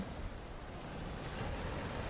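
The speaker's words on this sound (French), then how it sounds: "Le son des vagues est si apaisant." Sea waves wash steadily onto the beach at Valencia, a soft continuous broadband surf with light wind noise and no distinct breaking crashes, heard alone at low level.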